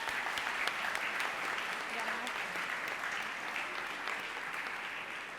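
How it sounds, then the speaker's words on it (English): A school crowd at a spring athletic awards event gives the coaches a round of applause, steady even clapping from many hands at a moderate distance. "Give them a round of applause."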